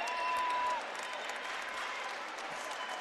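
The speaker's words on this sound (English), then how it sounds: "he gets a nice round of applause" Crowd applause at a basketball game rolls steadily through the arena after a player fouls out, a broad continuous clatter of clapping that stays fairly even and moderately loud throughout.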